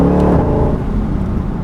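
An 800-horsepower Shelby GT500 Signature Edition accelerates hard under power, a dense, loud engine roar heard from inside the car that stays strong and continuous throughout the short burst.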